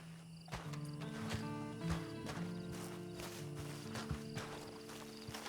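Horse hooves clip-clop in Red Dead Redemption 2, a steady run of soft, fairly near footfalls over a tonal game music bed, with faint insect chirps in the background.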